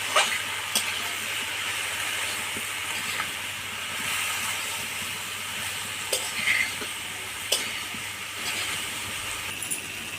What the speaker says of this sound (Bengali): এবার আমি সবজিগুলো ভালো করে কষে নেব